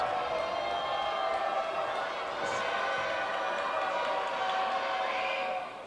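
Loud, sustained crowd roar in a gym during a boys high school basketball game between York High and Central York, steady throughout with a few brief sharper shouts and faint court noises mixed in.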